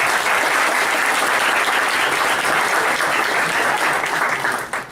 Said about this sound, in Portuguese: Queria que vocês recebessem ele com uma salva de palmas.